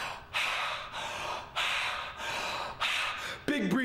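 Deep, forceful breathing, close to the mic: four or five long airy breaths in a steady rhythm, each a loud rushing inhale or exhale, ending with a brief vocal sound.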